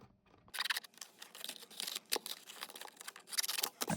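Scissors cut through a piece of green tissue paper in a quick series of close, crisp snips and rustles, with no talking.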